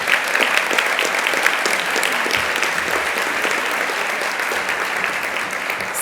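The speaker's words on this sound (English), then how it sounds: "Let's give Shay a round of applause." An audience at a 2024 inclusion event gives a speaker a round of applause, a steady, dense wash of many hands clapping that holds evenly for several seconds with no talking.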